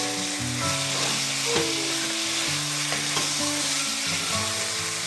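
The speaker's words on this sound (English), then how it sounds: "So add in the tomato. Make sure that you stir." Tomato stirred and frying in a pan of palm oil for Cameroonian jollof rice: a steady, close sizzle runs throughout, with faint scraping stir strokes and no voices.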